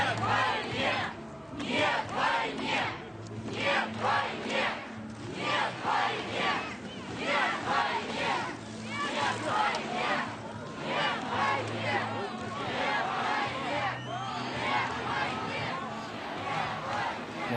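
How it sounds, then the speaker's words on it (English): A large protest crowd in St. Petersburg shouts and chants in rhythmic waves, the massed voices loud and continuous with overlapping cries and babble throughout. "Let's just have a listen in to some of the sounds from this protest"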